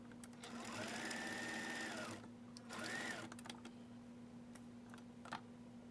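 A sewing machine stitches a seam on a sleep bonnet in two quick runs of fast, close whirring. A short pause separates the runs, and a few faint clicks follow under a steady low hum.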